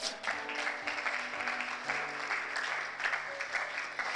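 A church congregation applauds steadily and warmly, a full room of clapping that holds at an even level from start to finish.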